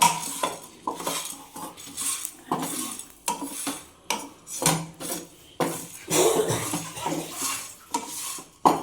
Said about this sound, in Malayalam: അപ്പോൾ നമ്മൾ മസാലക്കൂട്ടൊന്ന് ഇളക്കി ചൂടാക്കി എടുക്കണം.